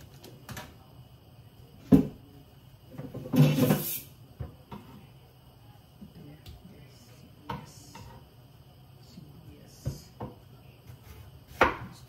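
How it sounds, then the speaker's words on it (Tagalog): A knife slices through an onion on a cutting board, making a sparse, irregular series of sharp chops and taps at close range, with some soft handling noise between cuts. "hihiwa tayo ng sibuyas"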